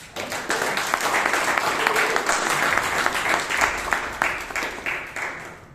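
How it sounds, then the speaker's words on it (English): An audience at a Toastmasters club meeting in Bangalore gives a hearty round of applause, continuous close clapping that swells and then thins out near the end. "Give a huge round of applause to Toastmaster Akash."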